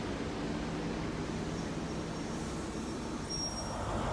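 A train pulls out of Bristol Parkway station as a steady, loud rumble with low engine drone and rolling wheel noise that holds evenly throughout, with a brief high squeal near the end.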